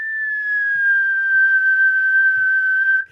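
A person whistles one long, steady, pure tone that holds evenly for about three seconds before stopping, loud and close with no talking over it.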